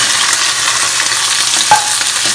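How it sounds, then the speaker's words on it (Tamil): Small onions tumble into hot oil with garlic for a fenugreek-leaf shrimp curry, setting off a loud, close, continuous sizzle with a brief stirring knock. "பூண்டு வதங்கிட்டு இப்போ நம்ம சின்ன வெங்காயம் போடுறோம்."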